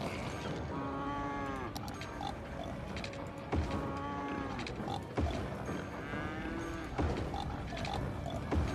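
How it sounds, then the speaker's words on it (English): Farm animals in Cities: Skylines give repeated grunting, lowing calls, several drawn-out cries recurring every second or two over a constant bed of game ambience, fairly loud and close. "Oink, oink, oink."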